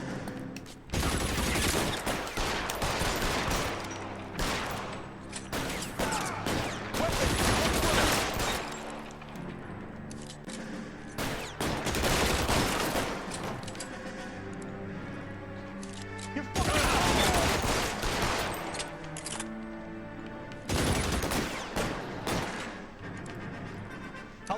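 An L.A. Noire shootout plays out with heavy volleys of gunfire coming in several loud clusters separated by quieter stretches of echoing shots and crashes.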